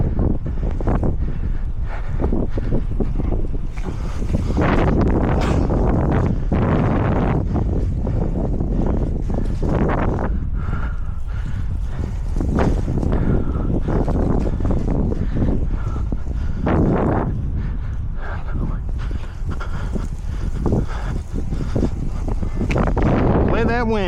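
Strong wind blowing across an outdoor lawn during a spring fertilizer and weed-control application, a steady loud roar buffeting the microphone with gusty surges throughout, with a voice occasionally talking beneath it.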